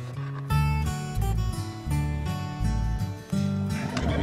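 A mare, kept for sheep hunting, neighs in loud, close bursts while her hooves clop in an uneven rhythm throughout.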